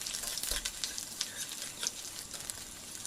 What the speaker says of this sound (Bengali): তো খুব সুন্দরভাবে 1 মিনিট ভেজে নিচ্ছি এখানে।